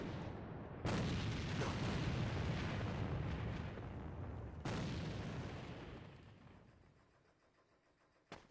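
A grenade explodes in the AVA shooter game: one loud, close boom that rumbles and slowly decays, then a second blast a few seconds later that fades out, with no voices.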